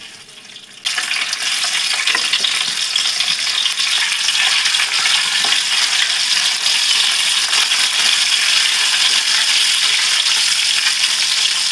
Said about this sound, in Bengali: এই তেলের মধ্যেই আমি এখন দিয়ে দিচ্ছি ডিমগুলো।